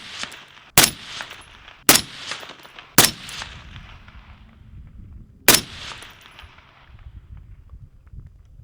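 Four sharp rifle shots from a Noveske 12.5-inch barrel firing PMC 55-grain ammunition outdoors, loud and close, spaced unevenly with short echoing decays and quiet gaps between them.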